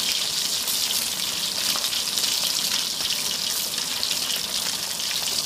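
Sea fish, filleted, deep-fries in plenty of oil with a loud, steady hiss and dense crackle, close and continuous with no talk.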